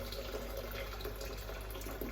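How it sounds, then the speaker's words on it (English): Boiled water from a kettle poured into a pan of rice, a steady continuous splashing pour close by that runs the whole time without pause. "So to the pan, I'm just going to add plenty of boiled water."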